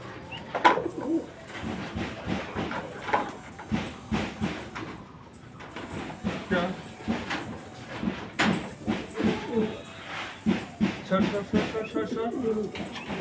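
Pet Madras pigeons coo softly and repeatedly in a close, busy setting, with a voice talking intermittently over the birds.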